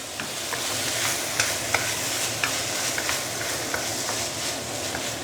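Cabbage and rice with dark soy sauce fry in a pan, sizzling steadily and loudly while a utensil scrapes and stirs with several light, irregular clicks against the pan, no voices.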